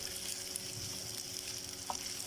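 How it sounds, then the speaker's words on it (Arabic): Sausages fry in oil with a spoonful of ghee, giving a soft, steady sizzle and crackle throughout, fairly quiet and with no talk over it. "كده نزلت السوسيس كله، بصوا شكله عامل ازاي"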